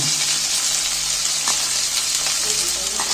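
Cabbage sizzles and crackles loudly in a hot pan, with occasional stirring clinks and scrapes over the steady frying hiss.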